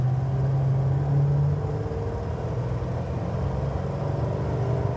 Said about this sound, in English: give it a little gas, show you the acceleration